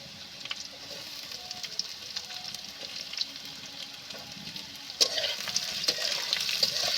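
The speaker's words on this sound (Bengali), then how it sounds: "পেঁয়াজটা কিছুক্ষণ নেড়ে চেড়ে নেওয়ার পর" Onions frying in a pan, a steady hissing sizzle with occasional stirring scrapes, growing louder and more vigorous near the end, close by with no talking.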